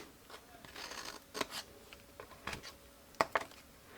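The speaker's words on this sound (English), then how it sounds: "Cut straight on the rectangle and cut into your squares." Scissors snipping through paper or card while making a rectangular lidded box: a handful of soft, short crisp cuts scattered over a few seconds, close and fairly quiet, with no talk.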